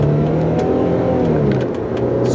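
A 2001 Volkswagen Passat 4motion all-wheel-drive car accelerating while the gears are shifted, its engine droning steadily and loudly from inside the cabin with no talk.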